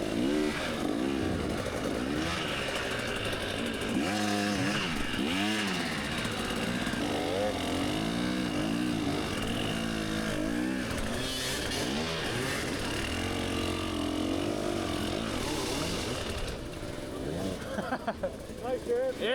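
Dirt bike engine in an off-road race, a continuous buzzing two-stroke-like whine that rises and falls as the rider revs through obstacles, loud and close throughout.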